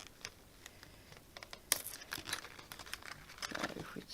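Sticky plastic packaging crinkles and crackles as it is handled and peeled, a run of irregular close-up rustles with a sharper crackle partway through.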